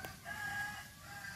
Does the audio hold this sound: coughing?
no